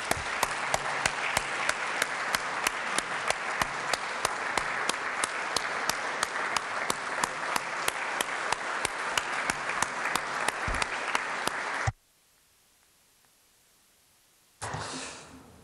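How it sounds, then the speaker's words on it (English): A legislative chamber audience gives sustained, even applause for about twelve seconds, dense clapping that stops abruptly, followed by near silence and then a faint room murmur. "Let's give her a round of applause."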